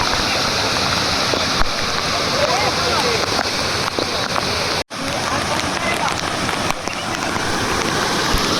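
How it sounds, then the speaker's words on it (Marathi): Water from small monsoon waterfalls streaming down the hillsides into a lake along a plateau trek, a steady loud rushing wash that fills the whole clip with only a brief break midway. "जागोजागी असे वॉटरफॉल्स आहेत"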